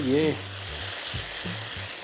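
Garlic frying in a pan gives a steady close sizzle, with a brief voice-like tone at the start and a few low knocks near the end.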